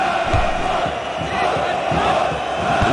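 A displeased stadium crowd in the PC football game FIFA World Cup 2002 keeps up a loud, steady roar and murmur without a break, with no commentary over it.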